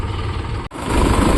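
A Mahindra tractor engine idles steadily in a showroom, a continuous low rumble that briefly cuts out for a split second before resuming at a slightly fuller level.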